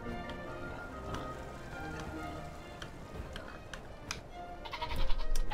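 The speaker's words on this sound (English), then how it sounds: "Okay, I'm gonna go for those goats actually." Goats bleat in the survival video game The Isle, several wavering calls repeating over a soft rain-like hiss that grows louder toward the end.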